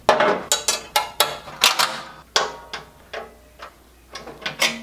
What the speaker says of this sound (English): to hold these brackets in place, I'm just going to use some basic machine screws